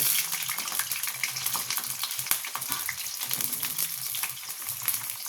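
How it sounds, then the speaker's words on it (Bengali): Pointed gourd (potol) frying in a pan gives a loud, steady, close sizzle with constant crackling and bubbling, with no voices. "পটলটাও আমি ভেজে নেব।"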